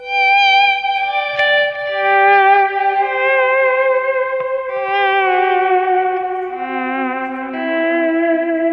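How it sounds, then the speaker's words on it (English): Sustained electric guitar notes repeat as delay pedal echoes that smear together into a lush, reverberant wash, with no voices present. "the way the echoes, they feather into each other and turns into kind of a reverb"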